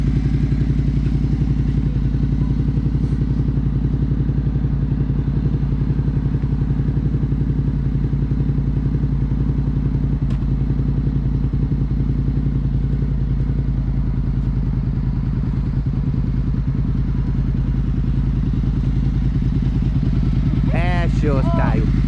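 Motorcycle running steadily through a first riding lesson with front-brake practice, a constant mid-pitched engine drone with light clatter and thumps throughout and a brief squeak near the end.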